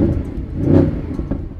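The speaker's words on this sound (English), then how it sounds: "simply by pressing this lovely little round button we've got just here, which is called engine stop start" A Mercedes-Benz SLS engine fired up by its stop-start button, a loud close rumble that swells into a brief rev and then settles into a deep idle.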